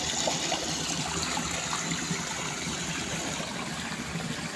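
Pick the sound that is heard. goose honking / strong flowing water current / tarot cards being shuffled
strong flowing water current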